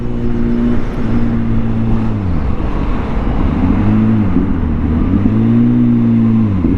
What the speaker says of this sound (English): And that pipe sounds killer.